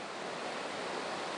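A large waterfall at a trout fishing spot pours in a constant, even roar of rushing water, steady and uninterrupted throughout.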